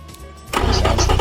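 A small 1.5-liter 4-cylinder car engine in a BeamNG video game cranks and catches after a brief quiet moment, then runs with a rising, buzzing rev, close and fairly loud.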